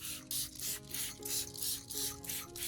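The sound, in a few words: spray bottle misting an orchid plant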